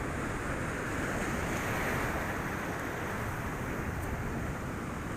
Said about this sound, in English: A lot of white water here.